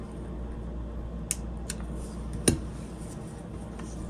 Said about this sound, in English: And I'm gonna cut the teeth on this side.